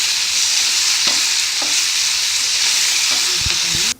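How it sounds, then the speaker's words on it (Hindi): Chopped vegetables for sooji upma sauté over a medium flame, a steady close hiss of frying throughout, with a few soft scrapes of a spoon stirring the pan before the sound cuts off. "सब्जी बस सॉफ्ट होने तक भी हमें पकानी है"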